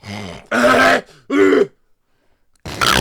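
A person coughs and clears their throat in three harsh bursts separated by short pauses, followed by a stretch of silence and then one more rough burst, loud and close.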